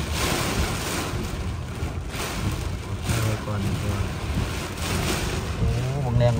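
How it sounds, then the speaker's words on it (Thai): Strong storm wind roars steadily outdoors, a dense continuous rush with gusting surges and a watery, surf-like texture throughout. "แรงลมพี่น้อง"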